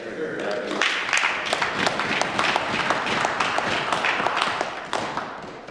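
An audience claps steadily and fairly loudly at a live event in Arm River, a dense, continuous patter of many hands lasting several seconds with no gaps.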